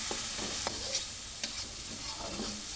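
Food being stirred in a pan with ground turmeric and pepper, soft sizzling and frying under repeated scrapes and clinks of the stirring utensil, close and steady with no talking.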